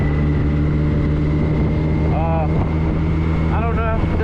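A Kawasaki Concours 14 motorcycle hums along steadily on an early-season ride, its engine drone close and constant under wind noise, with brief rising tones from passing traffic.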